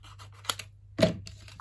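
Scissors cut through a piece of white paper for a gift card holder, with a few soft snips and one firmer crisp cut, close and quiet.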